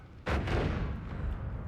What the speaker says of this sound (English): That's going to explode.